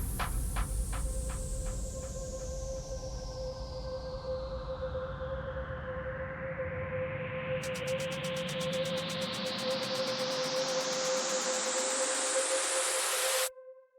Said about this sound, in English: add a lot of uplifters, ambient effects, and stuff like that to the build-up